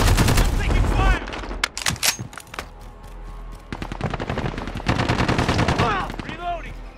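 Call of Duty: Modern Warfare combat with rapid machine-gun bursts and single shots, loud and close, mixed with brief voice callouts and clattering action.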